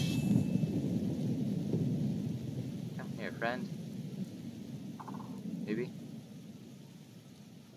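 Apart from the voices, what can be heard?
thunderstorm and rain in Skyrim video game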